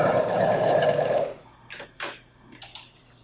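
A sewing machine stitches a zipper with a steady, close, rapid whir for about a second and a half, then stops, leaving a few faint clicks and handling taps.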